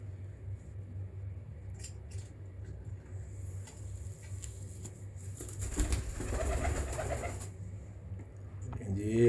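Pigeons coo softly and repeatedly in an indoor breeding room, a low throaty murmur under steady background rumble, with a brief louder shuffle toward the end.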